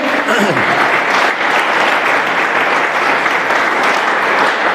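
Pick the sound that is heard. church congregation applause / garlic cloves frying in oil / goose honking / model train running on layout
church congregation applause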